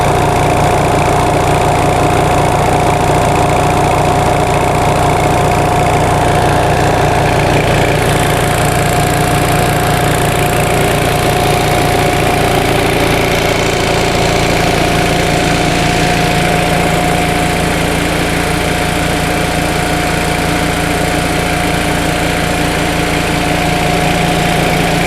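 A 1945 Onan generator engine runs steadily under full load, a loud, continuous mechanical drone with a constant hum and no pauses, close to the source and with no voices over it.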